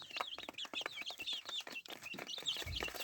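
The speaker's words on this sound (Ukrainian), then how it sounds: "Такі вже гарно підросує, видно, де курочка, де півник." Young backyard hens and roosters cluck and chirp continuously at close range, with busy overlapping calls and no talking.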